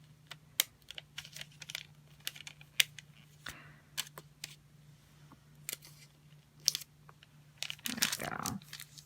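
Sun paper star being folded by hand, with sharp paper creases, rustles and crinkles coming in irregular bursts, close and fairly quiet, ending in a longer crumpling rustle.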